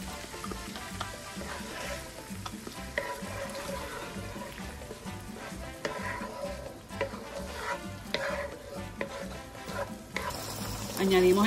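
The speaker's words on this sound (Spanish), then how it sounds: "Todo esto lo vamos a ir sofriendo a una temperatura mediana para que no se nos vaya a quemar." Puerto Rican sofrito sautéing over medium heat in a pan with tomato sauce, a steady close sizzle with stirring scrapes running throughout, nearly alone with no talk.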